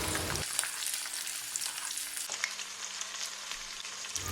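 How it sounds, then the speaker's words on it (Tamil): Shallots, garlic, fenugreek and curry leaves sauté in hot oil for a tamarind curry, giving a steady broadband sizzle with light crackles and a small jump in tone partway through; no one speaks. "10 சின்ன வெங்காயம், 5-6 பல் பூண்டு போட்டுட்டு இதை லைட்டாக வதக்கி விட்டுறலாம்."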